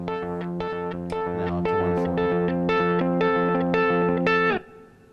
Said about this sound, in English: So that was the space heater on a clean guitar.